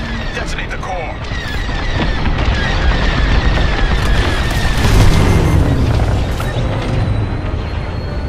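A core detonation rumbles through a Star Wars: Squadrons space battle, a loud sustained booming roar with laser-like tonal whines and blasts layered over it, swelling around the middle, while voices talk over the din.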